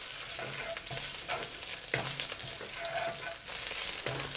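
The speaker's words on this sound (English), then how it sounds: "Continue to fry the ginger." Thin ginger slices fry in oil in a wok, a loud steady sizzle with periodic scraping stirs, close up and without talk.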